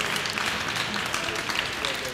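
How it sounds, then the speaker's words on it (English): Steady applause from an audience fills the room after a barista's competition performance at a UK Barista Championship, a dense even patter of many hands clapping at once. "Please, a round of applause for Will's performance there."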